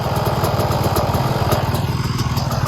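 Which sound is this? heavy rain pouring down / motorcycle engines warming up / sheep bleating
motorcycle engines warming up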